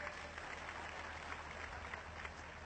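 A crowd at a rally in Ballia claps loudly and steadily to welcome a guest, a continuous wash of applause heard from the audience without pause.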